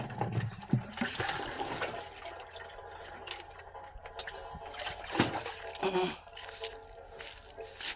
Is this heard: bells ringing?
no